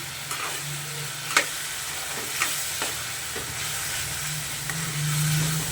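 A spoon stirs spices with a sweet ground paste in a hot pan, giving a steady low sizzle broken by occasional scrapes and clacks, close by with no talking.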